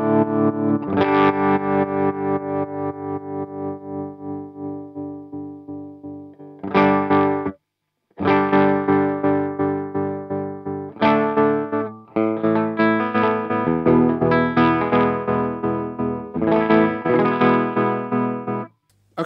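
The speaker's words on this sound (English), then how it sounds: "I would classify this as a tremolo" Electric guitar chords run through an Electro Harmonix Stereo Pulsar tremolo pedal, loud and close, the volume pulsing in rapid regular waves, with brief gaps between strummed phrases and nothing else heard.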